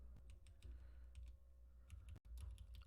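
A computer keyboard is typed on while macros are built with the MikeMike micro macro builder, giving a steady run of quiet key clicks and presses over a low background hum.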